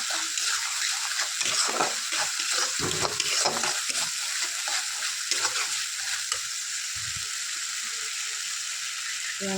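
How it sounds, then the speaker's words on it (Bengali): Whole spices crackling and sputtering in hot oil for doi katla, a busy dense sizzle with irregular popping bursts and stirring scrapes, steady and close, alone without talk. "মশলাটা ভালো করে ফাটতে হবে।"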